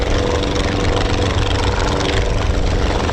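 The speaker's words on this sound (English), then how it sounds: "That is a Volkswagen Beetle engine, a VW 1600 Beetle engine, converted to Turner propeller." A small propeller aircraft powered by a converted VW 1600 Beetle engine buzzes steadily nearby at an airshow, a loud, rough, continuous drone with no talk over it.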